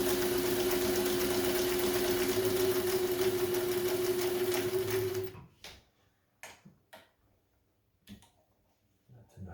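Kenmore 540 vintage sewing machine running a wide zigzag stitch, a loud, steady motor whir with rhythmic needle clatter for about five seconds, then stopping into scattered clicks and handling noises.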